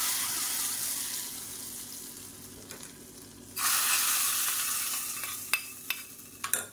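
Garlic fried in hot oil as a tempering, sizzling steadily and then louder when stirred into a stem amaranth kootu, with brief clinks of a spoon against the pan.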